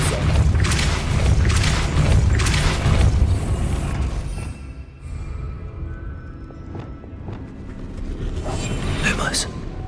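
A Depulso spell is cast in a Hogwarts video game, a loud rushing burst with rumbling impacts for several seconds that fades, then quieter clatter and a second swelling whoosh near the end.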